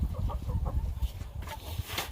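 A backyard hen clucks and murmurs near the microphone while being offered sprouts, soft repeated low calls with a few higher notes over a steady background rumble, no speech.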